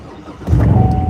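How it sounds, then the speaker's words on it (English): A car engine cranks and catches, then settles into a loud, steady idle close by. "I didn't want to start the car"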